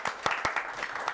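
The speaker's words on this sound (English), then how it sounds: "Can we get a round of applause for her," A small room audience at a conservation talk gives a brief round of applause, a few distinct loud claps over a scattered patter of hands.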